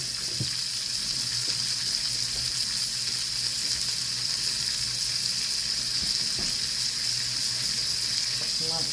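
Butter and oil sizzling in a frying pan, a steady bright hiss throughout with occasional faint clinks, close and continuous.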